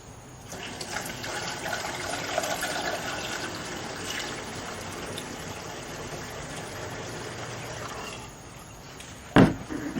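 Liquid pouring steadily into the fuel tank of a rotten old 1956 oval-window VW Beetle, a continuous soft rushing stream that tapers off near the end and is followed by a sharp clunk, with no one talking.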